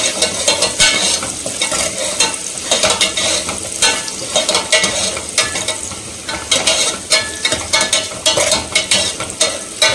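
Onions frying in a pan are stirred with a utensil, producing rhythmic scraping and clattering strokes over a constant sizzle, close and fairly loud, without speech.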